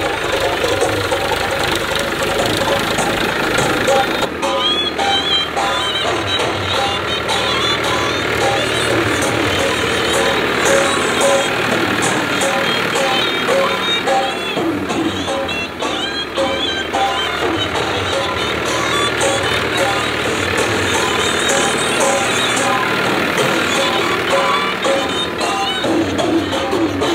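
A farm tractor engine works a mung bean field, running with a steady, loud, rough drone and knocking vibration throughout, with a noticeable shift in tone early on.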